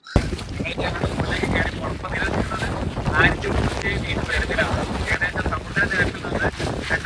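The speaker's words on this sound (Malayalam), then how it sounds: "ഇവിടെ എങ്ങനെയാണ് ഇങ്ങനെ ഇത്രയും കാറ്റ് വരുന്നതൊക്കെ" Strong wind on the Cheengeri hilltop in Wayanad during the monsoon buffets the microphone in a constant roar and rumble, with gusts rising and falling as a voice speaks faintly beneath.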